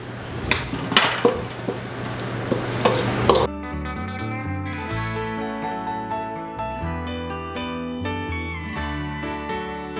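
Pots, pans and dishes being washed in a home kitchen, with sharp clanks and clinks of metal and glass in quick bursts, then a steady tonal hum takes over after a few seconds.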